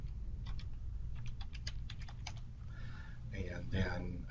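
Quick, uneven typing on a computer keyboard as a search term is entered into a web email search field, the clicks close and crisp, with a voice talking over the later part.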